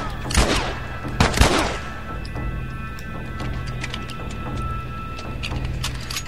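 Gunfire in The Last of Us video game: two sharp bursts of shots close together near the start, then quieter clicks and faint game ambience with no talking.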